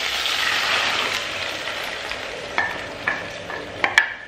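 Ginger garlic paste and tomato puree sizzle steadily in a hot pan during an Indian chaap dish, with a few sharper scraping stirs near the end and no talking.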